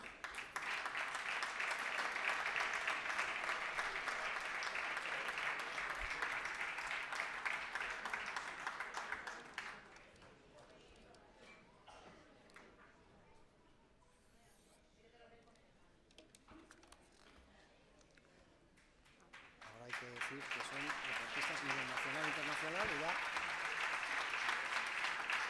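A large audience at the 2017 Camargo sports gala gives loud sustained applause for a champion bolo team. The clapping dies down to near quiet midway, then swells again, with a voice speaking during the quieter part.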